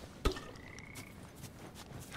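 A frog croaking in The Last of Us game, one sharp nearby croak followed by faint scattered calls over a quiet outdoor background.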